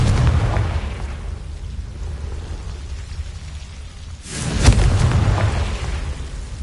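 A Confringo spell blast in Hogwarts Legacy, a deep rumbling boom swelling near the end over a steady roaring wash of background noise, loud and close.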